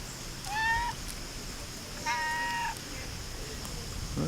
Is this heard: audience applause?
no